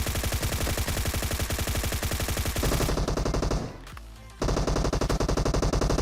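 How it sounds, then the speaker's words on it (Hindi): Rapid VSS rifle gunfire in the video game PUBG Mobile on the Erangel map, long fast automatic bursts, loud and dense, with a brief break before the shots resume. "एक बंदा मेरे ऊपर फायरिंग करता है वीएसएस से"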